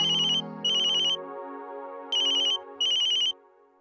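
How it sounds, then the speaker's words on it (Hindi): A phone rings with a bright electronic ringtone from the manager's call, sounding in four short repeating bursts over a soft sustained tone, clear and close with no talk. "मैनेजर का फोन है।"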